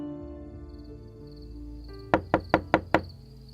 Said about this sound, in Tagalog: nagising na lang kami nang marinig ang katok ni Mang Delfin.